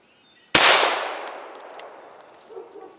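A Walther P22 pistol firing a 40-grain solid .22 round at a Master padlock: one sharp crack with a bright metallic clang that rings and fades over a couple of seconds, alone in a quiet setting.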